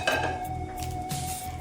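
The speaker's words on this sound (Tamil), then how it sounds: "நல்லா கிண்டி விட்டுக்கலாம்." Chicken fried rice being stirred in a pan, with a metal utensil scraping and clinking against the cookware in a steady, close sequence over a faint background hum.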